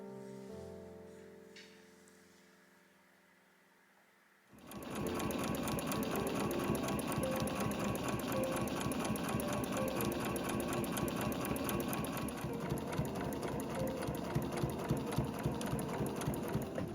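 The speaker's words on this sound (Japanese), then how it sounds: "両サイドを1センチで縫います。" A home sewing machine stitches 1 cm side seams on a canvas zippered two-way tote bag, running steadily and loudly in a fast, even mechanical rhythm for about twelve seconds after a quiet start.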